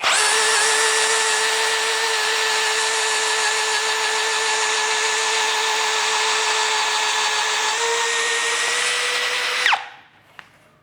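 Tekiro XV 20V cordless drill running steadily at speed 1, a loud continuous high-pitched motor whine held for about ten seconds before abruptly winding down and stopping, with no talking.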